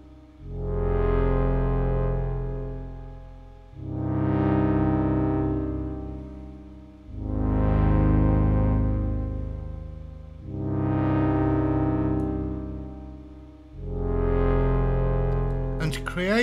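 A VCV Rack software synthesizer plays a bass sequence with a brassy chord sequence, built from two VCOs per sequence. Five long swelling waves of rich, buzzy tone rise and fall in slow succession, steady and prominent, with no talking.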